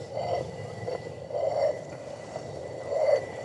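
A rotary quern grinds barley grain in a 13th-century castle setting: a steady, close, low stone-on-stone rumble that swells and fades in repeated rotations roughly every second and a half, with no voices.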